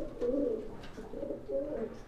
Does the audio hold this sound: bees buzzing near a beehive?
no